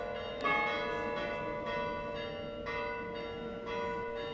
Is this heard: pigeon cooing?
no